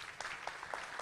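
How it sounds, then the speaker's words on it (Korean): Brief, faint applause from a crowd at a Korean venture forum, a steady patter of many hands clapping without voices. "뜨거운 박수를 좀 부탁드리겠습니다"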